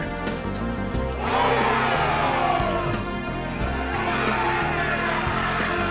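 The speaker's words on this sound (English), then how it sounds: "The hunters raise their weapons and cheer." Hunters in the Shin Megami Tensei IV: Apocalypse video game raising weapons and cheering, a loud crowd roar that swells after a second and holds over game music.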